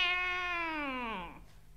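A single drawn-out cat meow, close and clear, falling in pitch over about a second and a half before fading out, with no other sounds around it.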